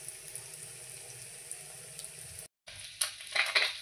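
Bora fritters frying in hot oil, a steady moderate sizzle with a brief cut of silence midway, then resuming with some louder crackling bursts.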